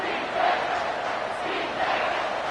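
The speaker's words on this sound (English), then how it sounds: "Here comes this home crowd as the defense tries to get off the field on third down" A home stadium crowd roars steadily at a football game while the defense lines up on third down, a dense, continuous wash of cheering with a couple of louder swells.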